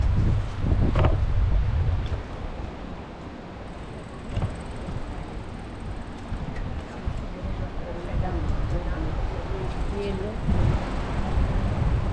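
Strong wind gusts through a street in Skopje, a steady rumbling buffet across the microphone with louder bursts throughout, while a person talks over it.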